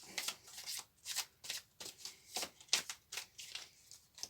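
Oracle cards are shuffled by hand in a quick, regular series of about a dozen soft papery riffles and slaps, close by and quiet.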